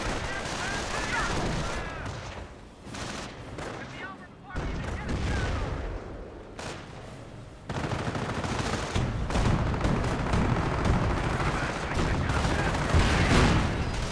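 A Calliope rocket barrage pounds away in the WWII strategy game Company of Heroes, with repeated booming explosions and rattling gunfire layered continuously, loud and dense throughout.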